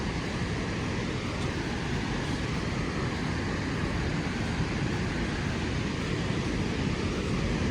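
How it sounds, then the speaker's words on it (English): A large waterfall roars as a dense, unbroken, full-bodied rush of water, loud and steady throughout with no voices. "That is a beautiful waterfall."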